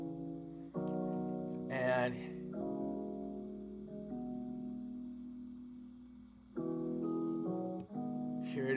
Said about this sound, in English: So here is the sound of like a piano, right, or some keys.